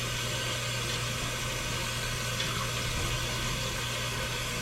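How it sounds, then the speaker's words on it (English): Mushrooms rinsed under a running tap, a continuous loud rush of water with a low steady hum beneath it, close and unbroken throughout. "I'm gonna rinse these mushrooms off right now"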